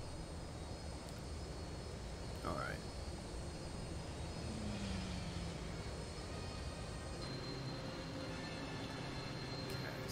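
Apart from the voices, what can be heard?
sky train moving in Star Wars Jedi Academy video game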